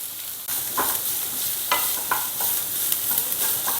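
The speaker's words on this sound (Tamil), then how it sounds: "அதையும் சேர்த்து அதை நல்லா வதக்கிக்கலாம்." Chopped onion and capsicum sautéing in hot oil for a pizza cutlet filling, a steady close sizzle broken by repeated spatula scrapes and stirring strokes against the pan.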